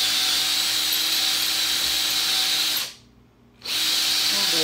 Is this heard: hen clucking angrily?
no